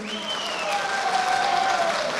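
Sustained applause from an audience at a consultation meeting of a district municipality with civic organisations, steady and fairly loud throughout, with a faint whistle-like tone sliding above it.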